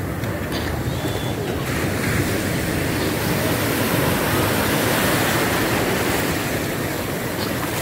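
Ocean surf during a surfing lesson, a loud continuous roar of breaking waves and rushing whitewater close by, wind buffeting throughout with no clear pauses.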